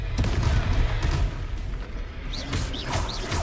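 Confringo fire-blast spell explosions in Hogwarts Legacy, with repeated loud booming bursts and crackling impacts layered over dense battle noise, sharp hits near the start and later.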